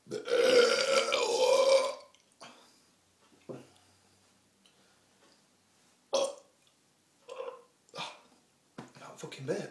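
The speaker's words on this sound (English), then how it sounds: "That fucking burp." A long, loud burp fills the first two seconds, followed by a few short, quieter bursts and scattered noises spread through the rest.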